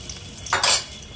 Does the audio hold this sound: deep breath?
no